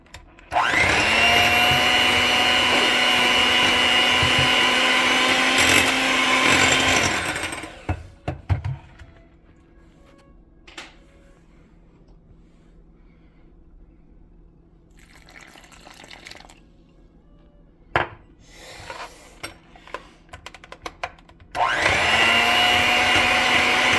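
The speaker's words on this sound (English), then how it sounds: "And then we're gonna blend on low." Kitchen blender running on low to mix gluten-free sorghum bread dough with yeast, a loud steady motor whir for several seconds, then quiet scraping and clinks, before the motor starts again at the end.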